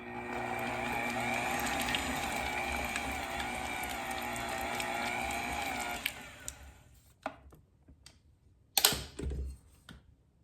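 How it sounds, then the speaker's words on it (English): A stand mixer with its beater attachment breaking down butter for Caribbean black cake, a steady loud whirring hum for about six seconds, then it stops and scattered clicks and knocks of the bowl follow. "Attachment onto my mixer, and I'm just going to go and break down my butter."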